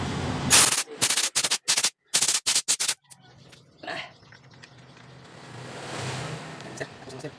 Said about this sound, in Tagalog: Nag-ipunan ko talaga to para makabili ng compressor at saka ito air gun